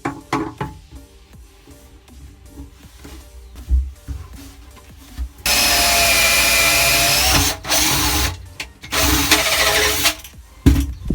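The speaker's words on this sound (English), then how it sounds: "Now I'm drilling the hole where the fuel hose will be running in through from the motor." A power drill bores a hole in a boat for a fuel hose, whining loudly in a sustained burst, then in shorter bursts, between quieter knocks and handling clatter.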